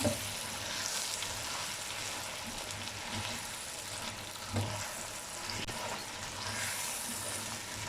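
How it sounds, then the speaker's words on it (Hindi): Chicken fries with ginger garlic paste in a karahi, giving a steady, close sizzle that holds evenly throughout with faint stirring scrapes and no voices. "अब इसमें अदरक लहसुन का पेस्ट डालते हैं। दो मिनट के लिए इसे भून लेंगे।"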